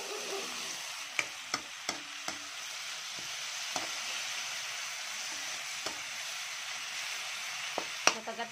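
Aromatics sauté in cooking oil for alamang sauce, giving a steady, moderate sizzle with a few sharp clicks and taps of a utensil scattered through, and no talk over it.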